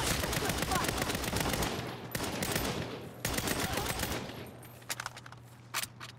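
Rapid bursts of automatic gunfire crackle through a Saints Row video game fight, dense and continuous for several seconds before thinning into a few scattered shots near the end.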